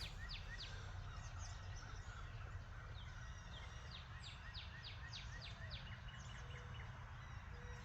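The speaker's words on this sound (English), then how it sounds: "Oh, it's lovely hearing all these spring birds," Spring birds, robins among them, sing outdoors by an old stone church, with repeated bright chirping phrases drifting in from moderate distance over a constant low rumble of background noise.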